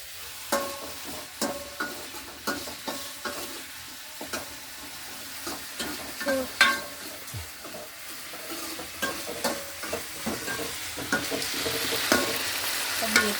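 Onion, beetroot, shallots and tomato sautéing in a pan, a soft continuous sizzle broken by repeated sharp scrapes and clinks of a spoon stirring against the metal, close and fairly quiet with no talking.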